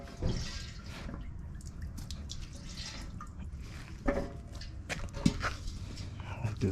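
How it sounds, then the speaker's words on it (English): Rusty water drains from the tank of a Harbor Freight 8-gallon air compressor, splattering and dripping in uneven bursts with a few sharper splashes, fairly close and moderately quiet. "And now we're gonna remove all the water it has in there."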